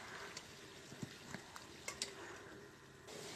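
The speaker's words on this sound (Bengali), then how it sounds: "এটাকে নাড়াচাড়া করব।" A roast with sugar and green chillies stirred in a pan, soft sizzling under a series of light scraping and tapping spoon strokes against the pan, no talking.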